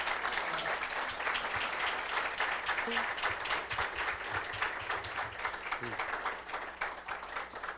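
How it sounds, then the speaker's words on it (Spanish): A seated audience at a clinical talk on disease in art claps for the speaker, Miguel, in a fairly quiet, sustained round with murmured voices underneath. "un fuerte aplauso para Miguel"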